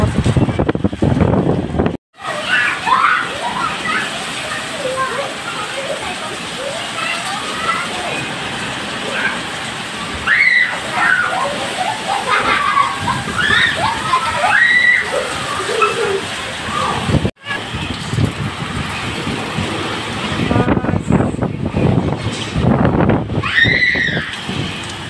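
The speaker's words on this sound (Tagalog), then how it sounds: "ang lakas ng hangin at yung ulan na lakas-lakas din" Strong wind roars and gusts with a steady wash of heavy rain during a storm, loud and continuous, with voices talking over it and a couple of brief dropouts.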